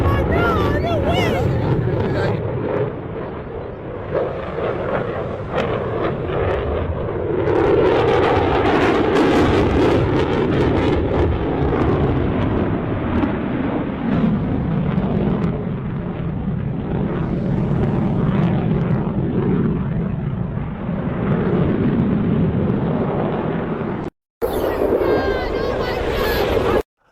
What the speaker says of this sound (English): they're using fighter jet sound effects